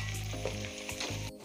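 Homemade desi ghee, made from butter churned out of cream, sizzles and crackles steadily in a pan as it cooks darker, close and continuous, with soft stirring and no talk.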